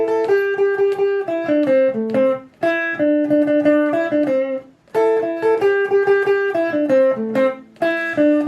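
Makossa guitar line played fast on a pentatonic scale, bright clean plucked notes in quick runs that repeat in short phrases with brief pauses between them, alone and upfront.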